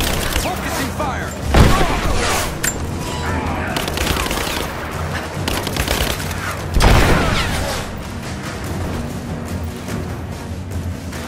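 Rise of the Tomb Raider gameplay with sustained gunfire, rapid automatic bursts and heavy booms in a dense, loud firefight, while characters shout over the shooting.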